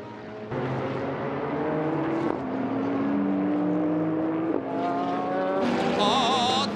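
Subaru BRZ GT300 race cars at Motegi during the 2021 Super GT Round 7 300 km race, engines roaring past loud and close with rising and falling pitch as they sweep by in succession.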